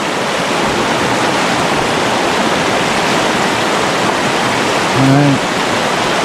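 River rapids at Fall Creek rush with a loud, constant broadband roar close by, and a voice speaks briefly near the end.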